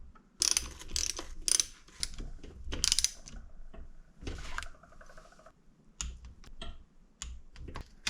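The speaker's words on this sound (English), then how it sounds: "Get this drain plug off." Ratchet clicks loosening the oil drain plug on a CRF150R engine during an engine swap, coming in quick close bursts of sharp clicks separated by brief pauses, with no talk.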